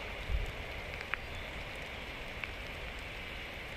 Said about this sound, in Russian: Вот такой дождь.